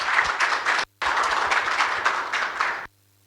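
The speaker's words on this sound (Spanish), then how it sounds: "Por favor, un aplauso para él." An audience applauds an architect after a talk on sustainable social housing, two bursts of steady clapping broken by a short silence near the middle and ending in quiet.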